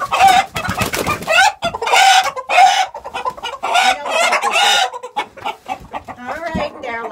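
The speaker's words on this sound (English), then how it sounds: "Now I got to get the rooster because he's actually so old." Loud, close clucking and squawking from an old rooster with crowing-like calls, continuous agitated fowl noises with no clear speech.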